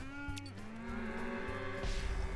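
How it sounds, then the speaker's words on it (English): A cartoonish space cow in the video game Cowmets gives a long, wavering, electronically pitched moo with stepped tones, close and alone, ending in a brief burst of noise. "Alright, let's get the black cow."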